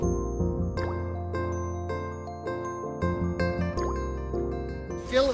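Water drips and trickles steadily into a small DIY rock water feature as it fills, with a run of close, repeated liquid drips and plops over the whole stretch.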